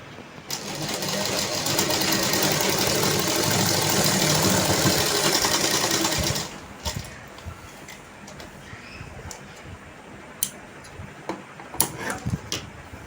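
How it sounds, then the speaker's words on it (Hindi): A sewing machine stitches a circular plazo in one steady, loud run for about six seconds, then stops, leaving light handling clicks and taps. "अब ये जो मेरी इधर खुली हुई जगह है मैं इसको भी इधर सिलाई से सिल दूँगी इसे।"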